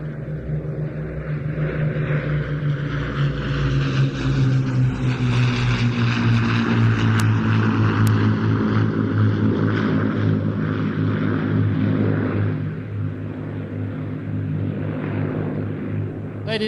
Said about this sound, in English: Royal Air Force, Battle of Britain Memorial Flight, Lancaster